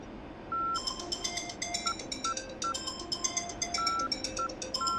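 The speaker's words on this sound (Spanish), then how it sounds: "Eso que oye es mi teléfono, al rato lo contesto." A mobile phone rings with a repeating melodic ringtone of bright electronic notes and steady pulses, clear and moderately loud, playing over a flight simulator session in an F-5E cockpit.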